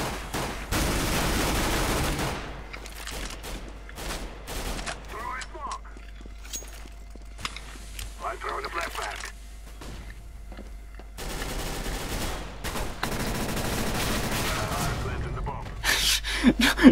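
Bursts of rapid gunfire in a video game, played on the Cache map, crackle repeatedly, some loud and sustained, others in short volleys, with someone talking between and over the shots.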